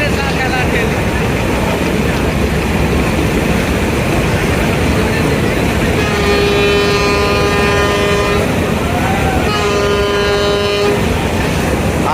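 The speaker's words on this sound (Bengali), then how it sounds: "আর এই দিক দিয়ে কিন্তু একই সাথে দুইটা লঞ্চ বের হয়ে যাচ্ছে" Passenger launches departing a ferry terminal sound two long, deep horn blasts over a loud, constant din of engines and water, with voices in the background.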